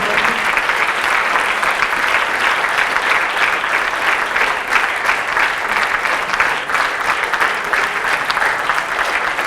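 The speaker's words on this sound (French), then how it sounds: "On peut peut-être applaudir tous ces jeunes." A conference audience at a gender-equality event applauds young people for nearly ten seconds, a steady dense roar of clapping from many hands with no break.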